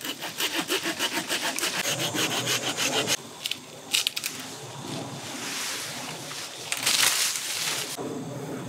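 A battery-powered pole saw rasps through wood in quick back-and-forth strokes, then continues in a rougher, uneven grind with brief pauses.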